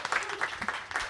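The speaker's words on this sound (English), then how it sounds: "Round of applause for all you guys." A small audience gives a brief, light round of applause, a few scattered claps heard fairly quietly.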